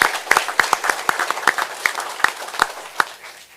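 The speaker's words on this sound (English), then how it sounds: "So I want a round of applause for our spouses and family members" At a Dothan city commission meeting, a modest crowd applauds military spouses and family members with sparse, distinct claps that trail off into scattered individual hand claps in a quiet room.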